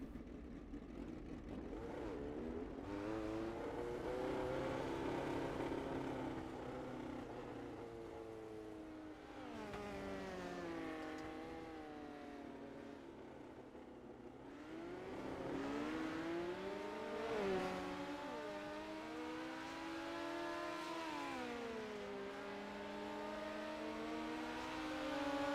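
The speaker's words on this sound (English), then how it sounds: "Green flag on the final qualifying session of the night for the Brandon Furhmann Memorial." Midget race cars lapping Lernerville in a sim racing game, engines revving and rising in pitch as they accelerate through a qualifying session, loud and continuous with no talk over them.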